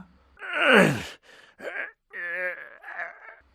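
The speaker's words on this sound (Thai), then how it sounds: "มีเสียงร้องเบาๆดังมาจากหลังชั้นวางของอีก" A soft, drawn-out moaning cry, close by, comes in several weak breathy bursts separated by short pauses.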